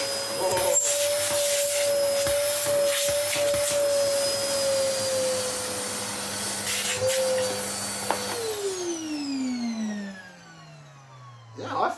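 Electrolux Mondo Z1190e vacuum cleaner running with a steady high whine, then switched off so the motor pitch glides down as it winds down; a person talks faintly over it.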